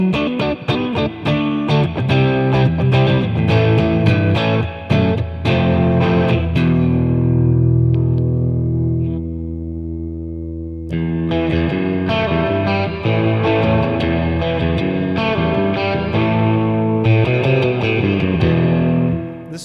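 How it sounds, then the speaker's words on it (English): Electric guitar played through a Boss Katana 100 combo amp with its spring reverb at full mix, distorted strummed chords and picked notes ringing into a wobbly, boingy spring tail, loud and close with no talking. "That's actually the reverb happening through the springs."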